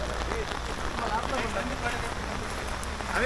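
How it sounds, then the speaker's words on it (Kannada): Steady rain pours onto surfaces at an outdoor college fest with box cricket on a foggy day. It makes a dense, even hiss throughout, with faint voices underneath. "ಮಳೆ ನೋಡ್ಬೋದು."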